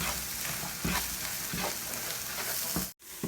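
Onion masala with chili powder and turmeric sautés in a pan for dum biryani, a soft steady sizzle broken by repeated scraping stir strokes and a brief drop to near silence near the end.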